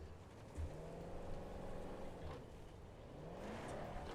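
Car engine running in the video game Battlefield 2042, a faint steady motor drone with gentle rises and falls in revs, continuous and unaccompanied by talk.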